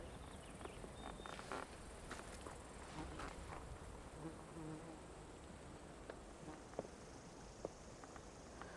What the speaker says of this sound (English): Unfortunately, the bugs are also kind of welcoming us.